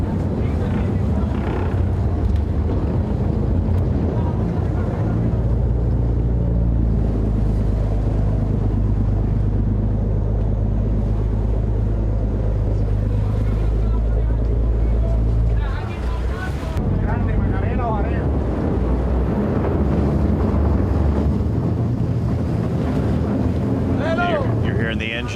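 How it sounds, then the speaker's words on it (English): Sport fishing boat engines drone with a heavy low rumble at a championship off Punta Cana, Dominican Republic, as the turbos kick in and the pitch and roar build, with wind buffeting and voices talking over it. "you can hear those turbos kick in"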